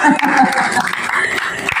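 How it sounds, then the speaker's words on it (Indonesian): Short burst of audience clapping at a journalism and design training session in Indonesia, a brief dense patter with some voices mixed in. "tepuk tangan untuk kita semua"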